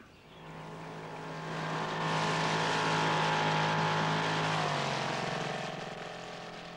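A small propeller plane drones past over an African swamp, its engine swelling louder toward the middle then the pitch dropping slightly as it moves away.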